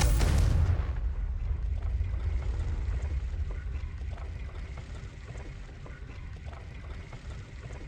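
A Confringo fire-blast spell goes off in Hogwarts Legacy with a loud, broad burst at the very start that quickly decays into a long, rumbling, crackling tail fading over several seconds.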